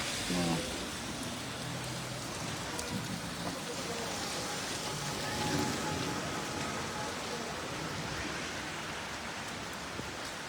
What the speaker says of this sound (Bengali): গুড়ি গুড়ি বৃষ্টিতে কি ভিজা হইব দাঁড়ায় থাকলে?